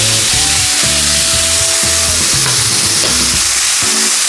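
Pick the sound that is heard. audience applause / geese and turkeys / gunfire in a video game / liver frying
liver frying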